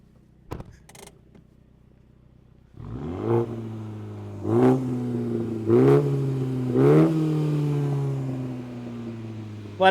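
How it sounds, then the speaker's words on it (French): Exhaust of a Mini John Cooper Works GP revved several times while parked, a strong rasping engine note rising in four distinct blips after a brief pause, close and loud. "je vais faire écouter le bruit du pot"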